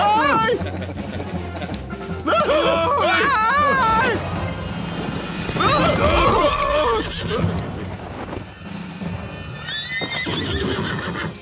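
Horses neigh and whinny with hooves clip-clopping in a cartoon ambush scene from a Zorro animated series, loud and busy, with voices and cartoon action around them.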